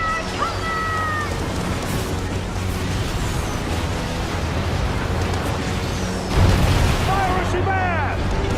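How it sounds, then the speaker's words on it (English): A sloop of war in a naval video game fires long-ranged mortars and long 9 cannons: a steady battle rumble with thin whistling tones, then a heavier, louder blast near the end. "The sloop of war kills from afar, with its crippling long-ranged mortars and precise long 9 cannons"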